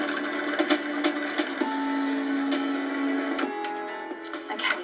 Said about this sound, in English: I'm going to blitz this until it resembles coarse breadcrumbs.